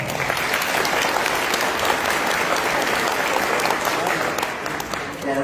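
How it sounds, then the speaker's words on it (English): Loud, dense applause from a large audience at an awards ceremony during a convention, continuous clapping that fills the room and fades slightly near the end. "To the end of the class, clap now."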